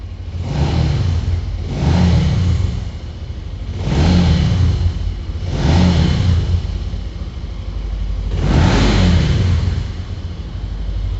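A Benelli TNT150i motorcycle engine revs up repeatedly, about five rising roars with short dips between, loud and close, no voices.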